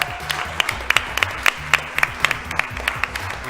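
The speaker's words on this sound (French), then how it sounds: "Je veux qu'on l'applaudisse bien fort, s'il vous plaît." Steady TV studio audience applause, a dense wash of clapping with sharper individual claps standing out in an uneven rhythm.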